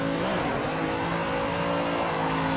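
A BMW E30 in the Assetto Corsa racing game drones with a sustained, loud engine note under steady throttle, the pitch wavering slightly, close and continuous with no talk.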